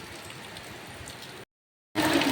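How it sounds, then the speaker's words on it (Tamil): Heavy rain from Cyclone Fengal pours steadily in a dense, hissing wash, briefly cutting to silence before resuming louder and closer. "அவங்க செம்ம மழை விடுற மாதிரி விட்டு திரும்ப ஆரம்பிச்சிடுச்சு."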